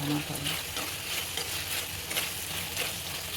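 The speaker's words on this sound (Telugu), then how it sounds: "ఆలు ముక్కలు వేసుకోండి. కొంచెం స్టవ్ పెద్దగా పెట్టుకొని కాసేపు ఉడికించుకోండి." Chopped potato pieces fry in a pan over a high flame for a potato tomato curry, giving a steady, dense sizzle with light stirring scrapes throughout, close and moderately loud, with no voices.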